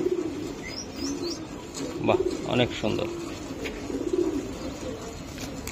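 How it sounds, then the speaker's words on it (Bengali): A racing pigeon cooing in low murmuring notes at a loft, heard under a voice talking nearby, with a few faint chirps over steady background noise. "এটা একটা রেস করা কবুতর"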